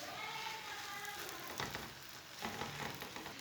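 A methi paratha sizzles faintly on a hot oiled tawa, a soft continuous hiss with a couple of brief louder crackling bursts.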